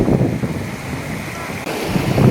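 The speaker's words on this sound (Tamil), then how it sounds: "மோசமான அருவி மக்களே இங்கே பாருங்கள் பயங்கரமாக தண்ணி இழுக்குது" Strong current of a rough river waterfall rushing without pause, a loud broadband roar of churning water with wind buffeting the microphone, steady and close throughout.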